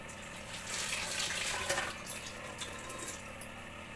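Tap water runs in a steady, fairly soft rush while curry leaves are rinsed for an Andhra-style gongura mutton curry, the flow swelling a little midway with a few splashy bumps and no talk.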